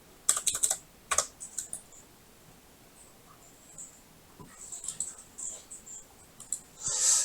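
Light clicking of a computer keyboard as a file name is typed, in short bursts of keystrokes with pauses, faint and close, with no talking.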